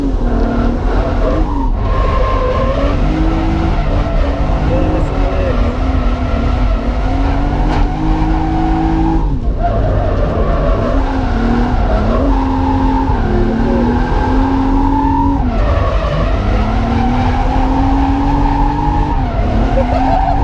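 A drift car sliding sideways at Driftland UK, its engine revving hard through rising and falling pitches while the tyres squeal and skid continuously, loud and close throughout with no pauses.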